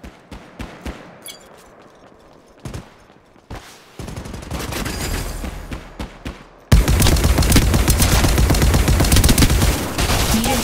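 Gunfire in the mobile shooter Apex Legends Mobile: scattered single shots at first, then sustained rapid automatic bursts growing loud and dense.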